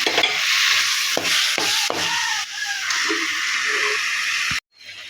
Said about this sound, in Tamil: அடுத்த சிம்மில் வச்சுட்டு நாட்டு சர்க்கரையோட கிண்டிக்கணும்